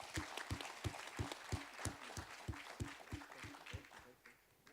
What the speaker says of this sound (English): could everyone just join me in a round of applause for the participants?